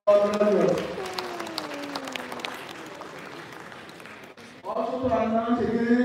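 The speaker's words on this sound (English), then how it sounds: "final round of applause for our graduates" Applause for graduates at a university convocation ceremony, a broad wash of clapping from a large audience that fades gradually under an amplified voice, which then resumes speaking.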